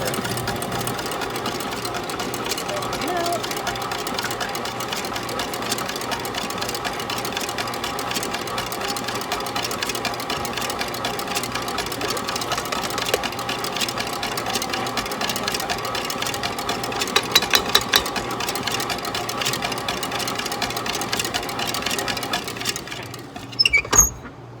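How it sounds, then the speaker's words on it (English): A stand mixer works dough for Portuguese bolos levedos with butter added, its motor whirring steadily and fairly loud for over twenty seconds with faint rattles, then cutting off near the end. "whisk milk into flour paste in the bowl of the stand mixer until combined"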